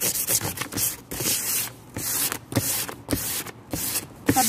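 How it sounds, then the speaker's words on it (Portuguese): Hand sanding of a mirrored door ornament, with repeated close scratchy strokes of sandpaper rubbing back and forth in an uneven rhythm, loud and with no talk over it. "vocês lixam assim, lixa uma área maior de uma vez só"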